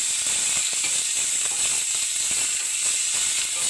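Chopped kohlrabi fries in a pan with a steady, bright sizzle and hiss, crackling continuously close to the pan with no talking.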